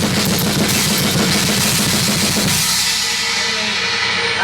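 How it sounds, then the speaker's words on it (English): A drum kit plays a dense, fast blast beat with the whole pattern on one foot and accents split onto a China cymbal, loud and continuous with trashy cymbal wash over driving drums. "playing also the whole blast with one foot and splitting with the China."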